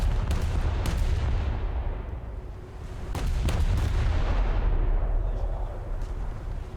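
Main guns of the cruiser USS New Orleans ripple-firing in a naval battle video game, with a dense, continuous roar of heavy booms and rumbling blasts, several sharp reports standing out, loud and close.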